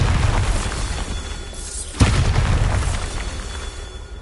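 A Bombarda spell from the Hogwarts Legacy video game goes off as a single sharp boom, followed by a rumbling tail over an ongoing game soundscape.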